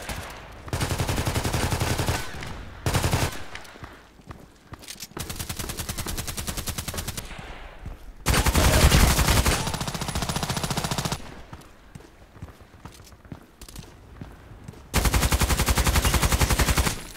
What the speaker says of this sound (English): I'm not shooting at the head.